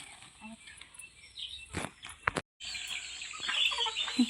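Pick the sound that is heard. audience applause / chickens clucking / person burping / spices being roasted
chickens clucking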